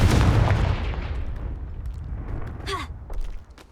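Confringo fire spell explosion in the Hogwarts Legacy video game, a loud close boom that rolls off into a long fading rumble, followed by a brief voiced exhale.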